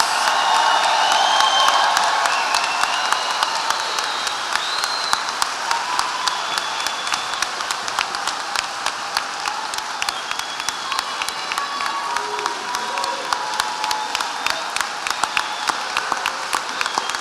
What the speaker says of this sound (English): If we could get a round of applause for the class of 326